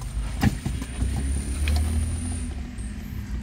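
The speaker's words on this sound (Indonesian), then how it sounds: "Cuman suara knalpotnya jadi begitu. Ini kondisi mesin masih dingin ya." A cold Toyota Vios engine with a sputtering fault cranks and catches, then settles into a low, rough exhaust rumble that carries on steadily, up close.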